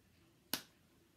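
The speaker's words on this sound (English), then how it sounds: "the clapping was like this" One sharp, close hand clap from a children's clapping game cracks out in isolation, a single bright snap that fades quickly into a quiet room.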